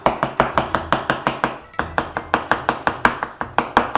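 A big carving butcher's knife chopping lamb and beef kebab meat on a board, steady rapid evenly spaced thwacks, about four per second with one brief pause, close and loud, no voices.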